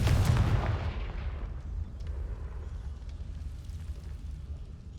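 Confringo blasting spell in the game Hogwarts Legacy: a loud, deep explosive boom at the start that rumbles and fades into a lingering low crackle.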